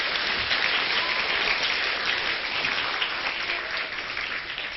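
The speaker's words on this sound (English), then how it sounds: "Give him a round of applause, guys." An audience applauds at a motivational talk by a speaker born without limbs, dense sustained clapping that fills the room evenly and stays loud throughout, with no voices over it.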